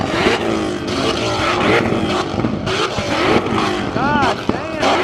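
A car engine revs hard in a 2-step battle between a Nissan R34 GTR and Mustangs, with loud rapid pops and crackles from the exhaust under excited shouting voices.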